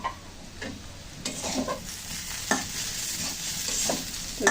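Potatoes being fried and stirred in a pan in a village kitchen: a continuous sizzle broken by scraping, clattering strokes of the spatula, heard close with no talk.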